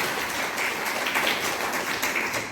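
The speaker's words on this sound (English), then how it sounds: "Please clap for each other." An audience at a school event for DAV institutions claps in a sustained, dense round of applause, steady and fairly loud throughout without any speech over it.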